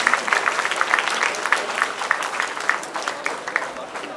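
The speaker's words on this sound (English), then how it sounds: "A big round of applause to them." Audience applause at a Diwali festival event, a continuous, fairly loud crowd of clapping with distinct individual claps popping out in an irregular rhythm.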